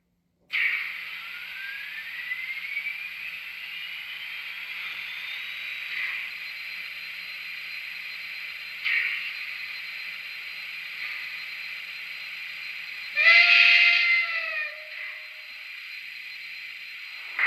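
A thin, steady electric whine from a small O gauge model steam locomotive rises in pitch as it starts, with a brief louder chirp near the end.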